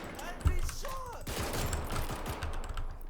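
Burst of gunfire in the combat video game Blackhawk Rescue Mission 5: a sharp shot followed by rapid, dense overlapping shots continuing throughout, with brief game sounds before it.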